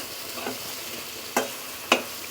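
Spice paste ingredients with green chillies and cashews sizzle in a pan for a Bengali fish dish, a soft continuous fry with a few sharp scraping strokes of a spatula, heard alone.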